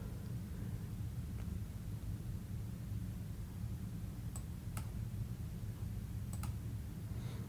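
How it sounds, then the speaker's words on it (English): Computer mouse clicks come in a few sharp, faint taps near the end, a single click then a quick double, over a steady low background hum with no talk. "Then I click that to stop the dictation."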